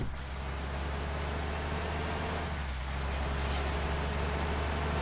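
Steady rain falling in the bus driving game Bus Simulator Indonesia on a modded map, a continuous broadband hiss with a low engine rumble beneath, even and unbroken throughout.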